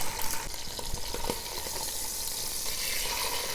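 Beef pieces searing in hot beef tallow for birria, a dense, loud crackling sizzle with sharp spits and pops up close, steady throughout.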